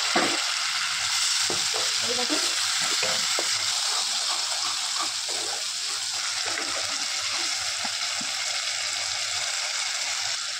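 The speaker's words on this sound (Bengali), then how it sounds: "আমি একটু জল দিয়ে নিয়েছি, জল দিয়ে একটু কষাবো।" Spice paste sizzling steadily in a pan with a splash of water, cooked down for a soyabean and potato curry, with soft scraping stirs throughout; close and continuous, no talking.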